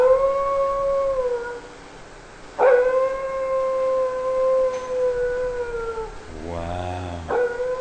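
Canine howls at a wildlife park, long sustained wavering wails close and loud, one fading and another starting, with a brief lower growling yowl before the last.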